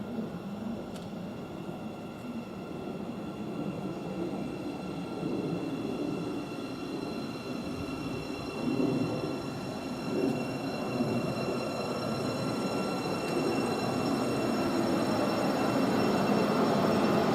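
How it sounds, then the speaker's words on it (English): A Class 717 train on the Moorgate to Welwyn Garden City service pulls into Potters Bar station on the East Coast Main Line, its steady rail rumble and whine building gradually and growing louder throughout, with no voices. "the next train to arrive in, we've got another 717 heading from Moorgate to Welwyn Garden City"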